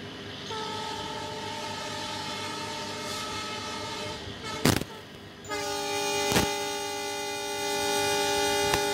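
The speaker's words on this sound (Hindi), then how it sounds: "तो चलिए अभी हम लोग हॉर्न मार के डिपार्ट करते हैं" A Mitali Express passenger train sounds a loud, sustained multi-tone horn while departing, with a continuous chord holding for several seconds, briefly cut by two sharp clanks, then resuming steadily over engine rumble.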